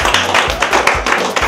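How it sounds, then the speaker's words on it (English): A crowd claps in a steady, dense round of applause at a celebration before a cake cutting, with sharp hand claps throughout and a faint voice underneath. "All right, a beautiful round of applause"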